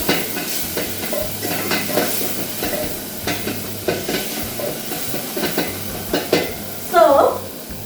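A spoon stirs githeri in a cooking pot, scraping and sloshing in repeated strokes over a low sizzle, fairly close and steady.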